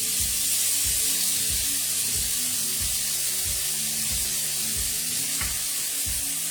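A beef stir-fry sautés in a pan, a bright, continuous sizzle running loud throughout, with a regular series of stirring knocks and scrapes roughly every half second and no talk over it.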